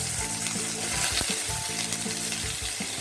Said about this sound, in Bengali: গিয়ে প্রথমে আলুটা আমি ফ্রাই করে নেব তো তেলটা গরম হয়ে গেছে দিয়ে দেবো তেলের মধ্যে